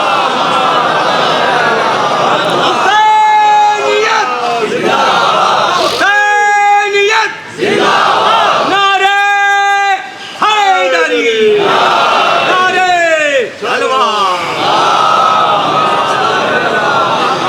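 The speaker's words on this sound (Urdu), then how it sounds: "جو آپ نے ہاتھ اٹھائے نعرے لگائے" A congregation at a Shia majlis raises hands and chants slogans in unison, loud crowd voices rising in repeated bursts of about two seconds each, with brief pauses between them.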